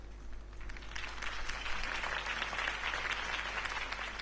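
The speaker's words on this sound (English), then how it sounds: "If only Mr. Wayne, my campaign's largest backer, could have heard that applause" Crowd applause follows Harvey Dent's campaign speech in the Batman Telltale video game, a dense, sustained wash of clapping from a large audience, fairly even and somewhat distant, with no voices over it.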